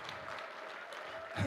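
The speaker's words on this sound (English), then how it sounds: "It's okay, you can clap." An audience at a celebration of life memorial claps softly and unevenly, a faint patter that swells slightly at the end.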